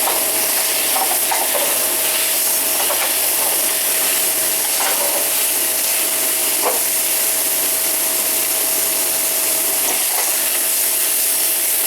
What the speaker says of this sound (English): because now it's more of the meat touching the pan, so you can hear it sizzling more